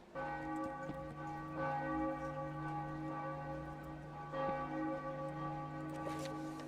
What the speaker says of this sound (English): Maybe it's something with the bells tolling. They are pretty loud.